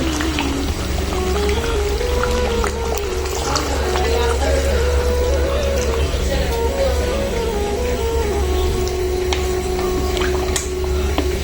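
Water pours into duck curry in a pan and bubbles with a steady liquid gurgle and sizzle, close and continuous, with some kitchen clatter.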